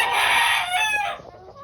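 A broodcock rooster crows loudly and close by in one drawn-out cock-a-doodle-doo that tapers off at the end, with no voices over it.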